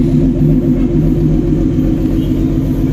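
A Mitsubishi 6A12 engine with a misfire idles loudly and close up, a low rumbling drone with an uneven, stumbling pulse running through it.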